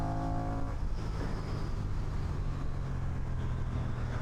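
A Honda Rebel 1100 motorcycle accelerates hard from a launch, its engine a loud, close, continuous roar that holds steady throughout with no voices over it.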